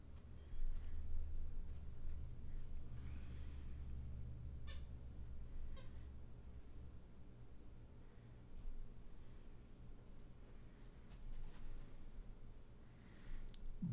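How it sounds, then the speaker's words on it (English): A cat meows a few times from somewhere nearby, short faint mews rising over a steady low background hum with no talking. "Kitty cat's in here."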